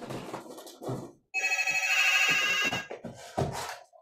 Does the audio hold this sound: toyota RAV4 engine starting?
no